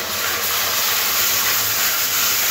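Spice paste of turmeric with ground mustard and poppy seed, fried for a Bengali pabda fish curry, sizzles in a pan with a dense, steady, loud hiss that runs unbroken and close.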